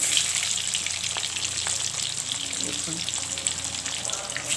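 Steady hissing sizzle of frying in a pan while chicken biryani is cooked, close and continuous, with occasional stirring clinks and a brief word spoken over it.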